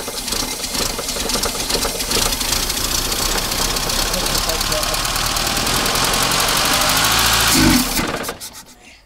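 A newly fitted engine in a Jetta Coupe runs close by with a loud, steady, rattling idle, then cuts out abruptly near the end.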